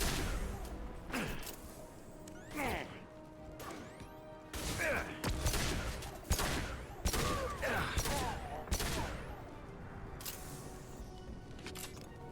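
A pistol fires repeatedly in the video game Mass Effect 2, a series of sharp, loud shots in irregular bursts over about twelve seconds, mixed with mechanical clicks and impact crashes.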